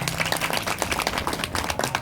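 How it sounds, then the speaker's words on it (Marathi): An audience at a kirtan claps hands together in a quick burst of scattered, roughly rhythmic claps, close and fairly loud, for about two seconds. "टाळ्या वाजवायच्या."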